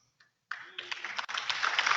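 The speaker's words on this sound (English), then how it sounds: "There's one more person who deserves a huge, huge round of applause" After a faint tap and a short silence, an audience at an oratorical world championship finals bursts into applause that swells and stays steady and moderately loud to the end.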